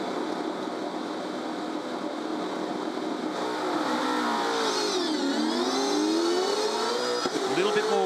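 A V8 Supercar race car engine heard onboard during a 2016 International V8 Supercars race at Tasmania, a continuous loud drone with rising revs and sweeping pitch changes as the car accelerates.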